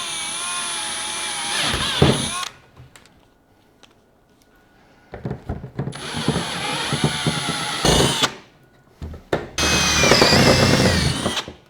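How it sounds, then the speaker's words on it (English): A power drill whines loudly in several bursts, revving up and down as it bores holes to about 25mm, with quiet pauses and clattering between runs. "So they're being drilled out to about 25mm."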